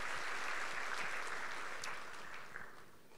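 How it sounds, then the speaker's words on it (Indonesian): Church congregation clapping during a Sunday sermon, a steady wash of applause that tapers off slightly toward the end. "Berikan tepuk tangan buat Tuhan Yesus ya."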